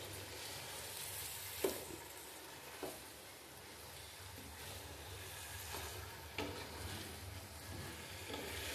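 Rice, lentils and vegetables for a winter vegetable khichuri are stirred and sautéed in a pot, a soft steady sizzle with a few sharp scrapes of the spoon, quiet and close.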